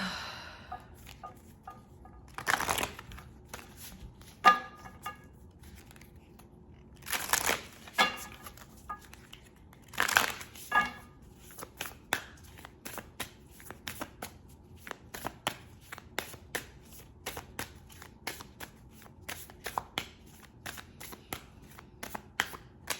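Oracle cards shuffled for a pick-a-card reading, a steady run of soft riffling and flicking with a few louder bursts of cards snapping together, close and alone with no talk.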